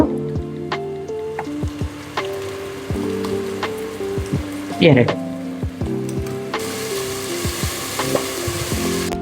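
Ginger garlic paste fries with onions in a pan, giving a crackling sizzle over a steady background hum, with scattered sharp taps of a spoon and a brief burst of louder spattering midway.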